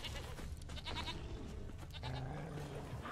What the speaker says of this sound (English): I hear the freaking goats.